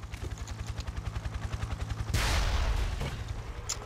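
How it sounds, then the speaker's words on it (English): Rocket launcher fire in Ace of Spades gameplay: a steady rapid mechanical rattle of gunfire gives way to a loud, broad blast that rumbles and fades, with no voices. "Just run up to them and hit them with rocket launcher until they die to death"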